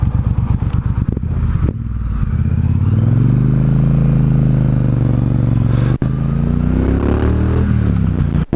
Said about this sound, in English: The engine's got a bit of a grunty sound to it